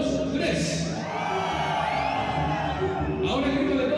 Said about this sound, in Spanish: Quiero que me regalen un grito todos los hombres a las tres